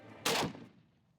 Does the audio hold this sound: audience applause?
no